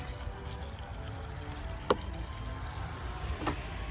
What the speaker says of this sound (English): I'm just going to give it another good dose of water.